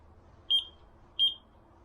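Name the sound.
van parking sensor beeper beeping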